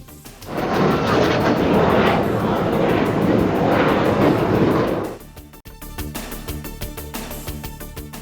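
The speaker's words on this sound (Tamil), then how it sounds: "சென்னை வான்பரப்பில் மிரள வைத்த உள்நாட்டு தயாரிப்பான தேஜஸ் போர் விமானம்." A loud, roaring Tejas fighter jet engine rushes overhead at an air show over Chennai's Marina for several seconds, then fades into a quieter, steady rumble of distant crowd and ambient noise.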